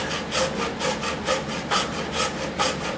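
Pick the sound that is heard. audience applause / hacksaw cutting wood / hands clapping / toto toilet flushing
hacksaw cutting wood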